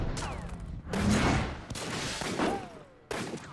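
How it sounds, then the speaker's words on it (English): Gunfire in the video game Sleeping Dogs, a dense fusillade of shots with sharp bursts and hard cut-offs, loud and close. "Whoa, who's shooting me?"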